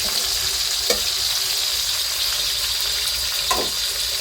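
Fish fries in hot, boiling oil, a loud continuous close-up sizzle and crackle holding steady for several seconds, with two brief bubbling bursts rising over the hiss.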